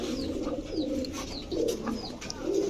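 A pair of Indian pigeons coo softly in low repeated murmurs close by, with faint chirps from other birds in the background.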